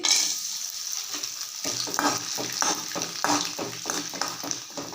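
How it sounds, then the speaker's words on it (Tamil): Rice flour vada dropped into hot oil in a pan, hissing with a steady sizzle and a run of sharp bubbling crackles in quick succession, close and fairly loud, with no talking. "இப்போ இதை நம்ம பொறிச்சு பார்ப்போம் ஒரு சட்டியில் எண்ணெய் ஊற்றி சூடாயிருச்சு"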